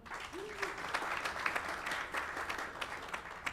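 An audience at a national membership meeting claps for staff members in a short, steady round of applause at moderate distance, with a brief voice near the start.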